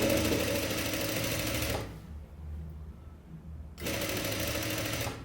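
A sewing machine stitches baby swimsuit fabric, joining two pieces from the middle in a steady, close mechanical whir that stops for about two seconds and then resumes.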